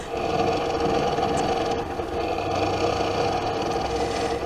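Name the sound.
longarm quilting machine stitching, sped-up footage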